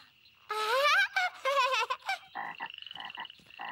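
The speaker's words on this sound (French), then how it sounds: "Et ça, c'est leur papa la grenouille." A frog croaks in a series of loud, close, warbling calls, followed by faster rattling, pulsing croaks, with no other sound behind them.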